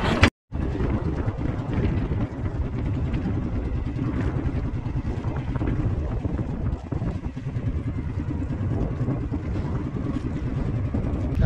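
Strong northeast amihan wind roars steadily across the microphone aboard a motorized fishing boat off Occidental Mindoro, a constant heavy rush with engine rumble beneath and one brief dropout near the start.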